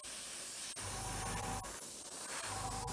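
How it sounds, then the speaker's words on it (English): An airbrush sprays Humbrol acrylic paint onto a model aircraft: a steady, loud hiss of spraying from a nozzle close by, with a few brief clicks and pulses breaking the continuous rush. "we're spraying our acrylic mix directly over that"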